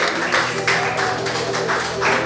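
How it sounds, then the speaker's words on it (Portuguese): A church congregation at a mission conference applauds in a steady, close wash of many hands clapping, with faint swells and no clear talk. "Vamos aplaudir o nome do Senhor"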